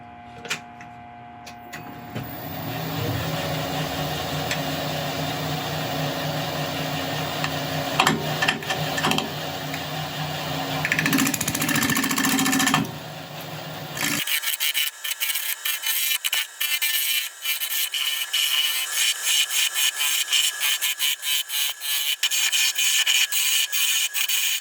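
An ebony segmented bowl is hollowed on a woodturning lathe with a ball gouge, a continuous loud scraping whir that shifts to a harsher, rapidly pulsing cutting sound partway through, with no talk.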